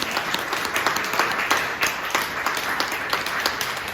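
Audience applause at a small music venue honoring healthcare workers, a steady wash of clapping from a moderate crowd with scattered louder individual claps, sustained throughout.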